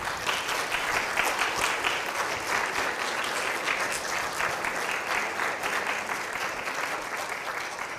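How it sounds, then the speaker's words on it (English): Sustained applause from a large crowd at a university convocation, steady and even throughout, with no voices rising above the clapping. "let's give them a big round of applause"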